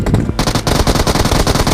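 Rapid automatic gunfire in the mobile battle-royale game PUBG Mobile, a dense, loud burst of closely spaced shots rattling continuously for under two seconds.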